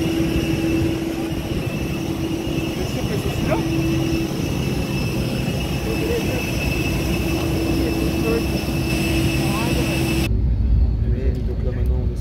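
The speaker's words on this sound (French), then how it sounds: "on est sur le point de décoller, on est sur la piste" A passenger airplane sits on the runway before takeoff, its engines droning steadily with a constant high whine over a low rumble, heard from inside the cabin; the hum cuts off sharply near the end.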